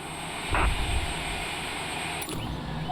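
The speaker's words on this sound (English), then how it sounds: "So this is Pisa, Italy, and we're taking off there." A Cessna Citation Longitude business jet takes off from Pisa, Italy, with a steady jet engine roar heard from inside the aircraft and a couple of brief clunks.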